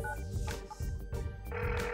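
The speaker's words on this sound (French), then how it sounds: "Génial, appelle-la. Ça sonne." A telephone rings on an outgoing call with tones that repeat against faint background noise, quiet and close, with no one talking.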